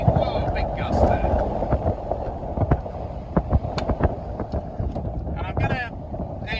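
Strong gusts buffet a boat under engine power as it approaches a mooring buoy in high winds, a roaring rush of wind noise with rattling and knocks, close to the microphone.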